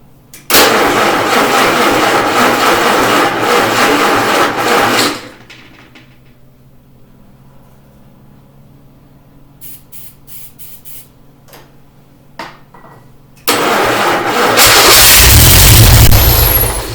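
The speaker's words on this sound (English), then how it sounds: "we're basically going to try to crank this thing over and see if it'll fire up today" Vermeer 630a stump grinder engine being cranked, with fresh spark plugs and a fully charged battery. A long, loud cranking run is followed by a quieter gap with a few small clicks, then another loud burst of cranking.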